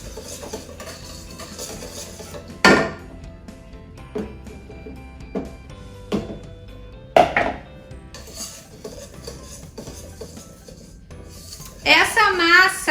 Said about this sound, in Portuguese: agora vou adicionando aos poucos aqui a minha farinha com o fermento. e vou misturando com um fouet